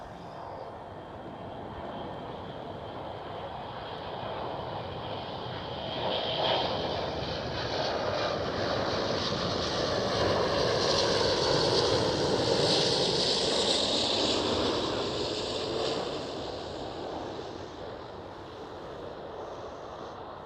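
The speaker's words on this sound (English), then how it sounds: "Next one up, KLM 777." A KLM Boeing 777 at Amsterdam Schiphol roars past as a steady, broad jet engine rumble that swells to a peak midway and slowly fades, heard from a distance outdoors with a wind-like wash and no talking.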